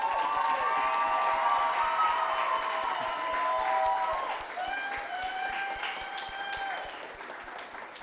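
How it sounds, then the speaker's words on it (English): A graduation audience at an adult learning center gives a round of applause. Sustained crowd clapping and cheering continue under a tonal musical line, fading slightly toward the end. "Let's give all the graduates a round of applause."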